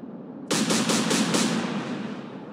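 Flak guns fire in the naval video game Atlantic Fleet: a sudden loud burst of rapid booming shots, about five in quick succession, then a fading rumble and no talk.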